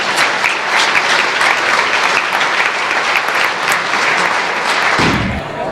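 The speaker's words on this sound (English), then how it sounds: "Give yourselves one big round of applause." A big round of applause fills a retirement gathering for Ron Davis, dense steady clapping from a crowd that holds strong for about five seconds before tapering off.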